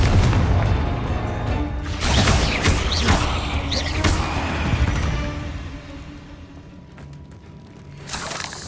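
Confringo blast spell in the Hogwarts Legacy video game: a loud, deep explosive boom with whooshing, rumbling debris that slowly fades, then a fresh burst near the end.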